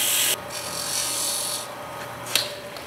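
Sandpaper of 150 grit pressed against a banksia pod spinning on a wood lathe gives a harsh, continuous rasping hiss over the motor's hum, close up, with a brief scrape near the end.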